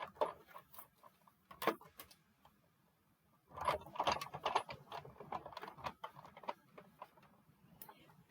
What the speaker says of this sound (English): So we'll just run this through, cut that pumpkin die out of the center.